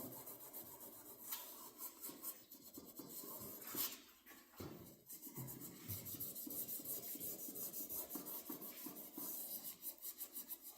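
A Scotch-Brite pad rubs across the refinished dash pad of a 1972 Buick Centurion, a quiet, close, continuous scratchy scrubbing in uneven back-and-forth strokes with brief pauses.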